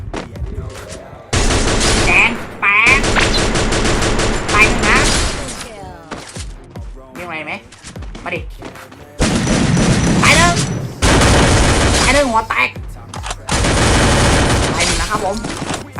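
Gunfire and grenade blasts from the Free Fire video game come in loud, dense bursts of rapid shooting with short gaps between, while an excited voice talks over the action.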